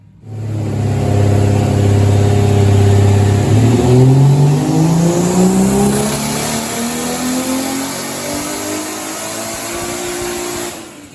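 A 1.5JZ VVTi engine in a Mk3 car revs hard, rising from a steady idle-like hold into a long climbing sweep of engine tone that then settles into a sustained high drone, loud and close with no speech.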